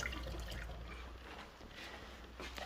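Romaine lettuce is rinsed under running water in a home kitchen, giving a faint, steady splashing trickle with soft fluctuations and no speech.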